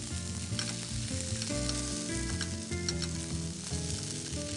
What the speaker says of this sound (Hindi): अब इसे थोड़ी देर सॉटे करेंगे.